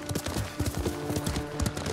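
Horse hooves clip-clop in a quick, steady rhythm as the horse is ridden in the video game Ghost of Tsushima, close and clear with no talk over them.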